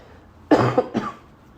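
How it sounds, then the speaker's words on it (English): A single short cough bursts out in two or three quick harsh pulses, close to the microphone, then quiet. "I apologize, I got a little bit of a cough"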